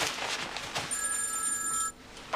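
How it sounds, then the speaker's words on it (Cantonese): A telephone rings in a lawyers' office setting in a legal drama, a soft electronic trill lasting about a second amid quiet room tone, heard faintly with no speech over it. "Sorry， 電話響。"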